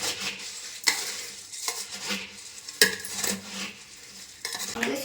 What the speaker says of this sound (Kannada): ಇದನ್ನ ನಾನು ಕ್ಲೀನಾಗಿ ಕಲ್ಸ್ಕೊತಿದ್ದೀನಿ